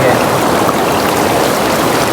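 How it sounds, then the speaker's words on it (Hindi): Clear water flows in a jungle stream, a loud, continuous broadband rush and splash with no pauses, close by and filling the whole stretch. "यहाँ देखो गंदा पानी है और इधर देखो साफ सुथरा पानी, प्योर पानी है यहाँ"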